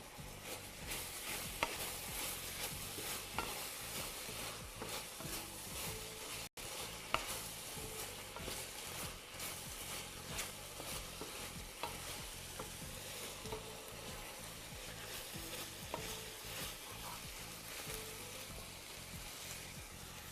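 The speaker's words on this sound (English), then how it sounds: "now I'm going to add my garnish vegetables, which is onion goes first. Give it a bit of a stir." Onion being stirred and fried in a pan with garnish vegetables, a long steady sizzle with scattered stirring clicks and scrapes, quite faint, with low background music throughout.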